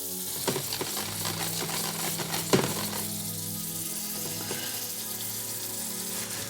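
Milk and cream are stirred into an onion glaze in a pan, giving a steady bubbling sizzle with scraping stirs and a couple of sharp clinks of the utensil against the pan, close and continuous.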